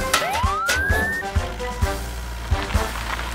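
An animated children's fire truck sounds its siren, a single rising whoop sweeping upward over a steady thumping beat that keeps going after the siren fades.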